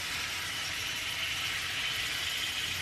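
Chicken fajita vegetables cooking in a pan give off a constant, even hiss of frying that stays steady from start to finish, with no voices.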